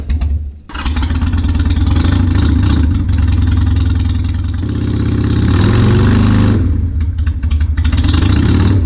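A 2004 Harley Davidson Sportster motorcycle engine runs loud and close after a battery replacement, with a steady idling rumble that dips, rises again and shifts pitch midway.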